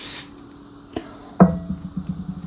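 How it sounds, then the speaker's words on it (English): Cooking spray hisses briefly onto a cake pan while baking a lemon pound cake: one quick burst, followed by a couple of clicks and a light clattering handling sound, close by. "So I'm going to go ahead and spray it again"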